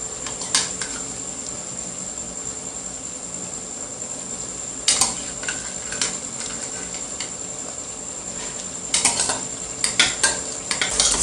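Meat and pepper frying in a pot for Nigerian vegetable soup give a steady sizzle, broken by sharp metallic clinks and scrapes of stirring in bursts near the start, middle and end.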